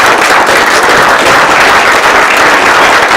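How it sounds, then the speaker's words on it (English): Steady, dense audience applause for a caregiver being honored at a National Family Caregivers Month event, loud and continuous with no pauses throughout. "Give Lydia a round of applause as she works her way out."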